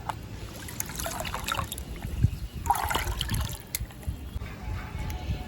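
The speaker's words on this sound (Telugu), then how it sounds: "దీన్ని ఇప్పుడు మనం ఈ వాటర్లో కలిపేసుకుందాం." Fermented garlic, asafoetida, rice and curd fertilizer for a curry leaf plant is stirred into water, giving a steady liquid trickle and sloshing with brief splashes, close and moderately loud.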